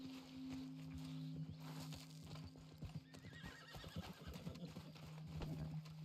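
A horse in the video game Red Dead Online neighs and snorts over steady hoof clip-clops and a sustained low drone, fairly close and moderately loud.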